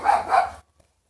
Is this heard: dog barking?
yes